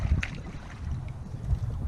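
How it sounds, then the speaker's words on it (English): Wind buffets a kayak out bass fishing on open water, a steady low rumble with gusting noise on the microphone and a few small knocks. "This wind."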